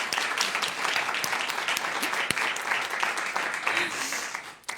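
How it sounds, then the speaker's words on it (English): An audience claps for guests at a KTH panel event, a dense, steady burst of applause lasting several seconds before tapering off at the end. "Give our guests a warm round of applause."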